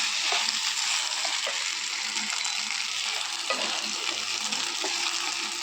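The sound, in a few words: stirring marinated Gobindobhog rice in a pan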